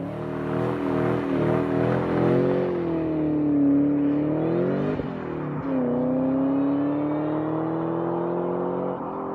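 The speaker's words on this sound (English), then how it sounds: "You just rev it up and drop the throttle and it just wants to go." A 2004 Mustang Cobra revs loudly up close, its engine droning and rising in pitch as the throttle drops and the tires spin in a burnout, a sustained roar with shifting tone lasting the whole clip.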